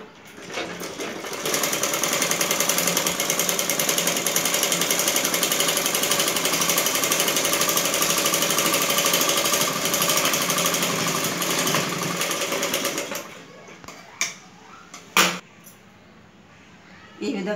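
A sewing machine stitches folded umbrella fabric in a long fast steady run, loud and close, then stops and leaves a few clicks and handling noises, with a voice speaking softly near the end.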